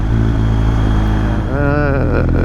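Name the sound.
motorcycle engine shifting gears with a quick shifter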